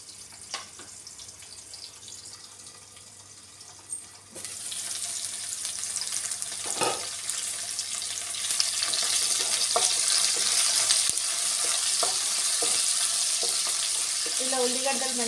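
Finely chopped onions fry in a pan, a quiet sizzle at first that swells into a loud, bright, steady hiss, with a few scraping stirs and clinks along the way.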